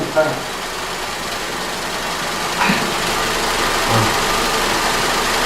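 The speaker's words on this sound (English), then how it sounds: "if you look at the engine, it's actually idling" A Vauxhall Corsa engine with a faulty front O2 sensor, running lean, idles steadily with a constant low rumble and hiss, with a few faint knocks or clicks over the top.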